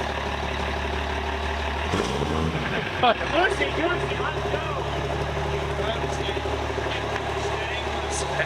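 A race truck engine revs to about 3,300 RPM, a loud steady drone with rising and falling sweeps around the middle, heard close with voices talking over it.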